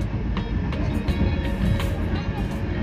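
An air-conditioned electric tram rolls through Kolkata between Shyambazar and Esplanade, giving a steady low rumble with light, irregular rail clatter throughout and faint voices mixed in.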